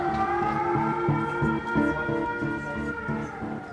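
A man imitates a police siren with his voice, a rising and falling wailing tone repeated in a steady cycle, loud and close with no other sounds.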